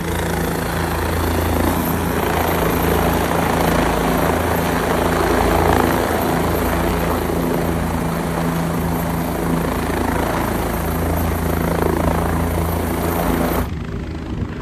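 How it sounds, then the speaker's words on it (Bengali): A helicopter landing at the Kedarnath helipad: steady, loud rotor and engine roar runs almost unbroken, then drops off abruptly near the end. "একটা হেলিকপ্টার নেমেছে।"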